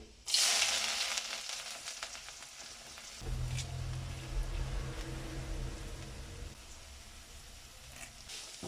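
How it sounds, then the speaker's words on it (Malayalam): Mustard seeds and spices frying in hot coconut oil for a ginger curry, a steady close sizzle with crackling pops, louder at first and then settling into a continuous fry. "ഇച്ചിരി കടുക് പൊട്ടിച്ചിട്ട് ഇതെല്ലാം ഇട്ട് ഇത് നമുക്ക് അങ്ങോട്ട് ഇട്ട് മൂപ്പിക്കാം"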